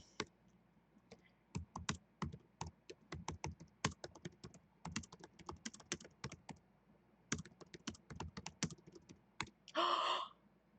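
Typing on a computer keyboard during a live stream chat, with quick irregular bursts of close key clicks separated by short pauses and a louder flurry of keys near the end, with no voices.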